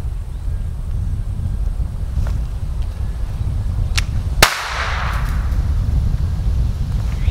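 One sharp bang from powder in a .410 shotgun shell with no projectile, set off inside a PVC pipe outdoors, cracks out against steady wind noise and briefly echoes away.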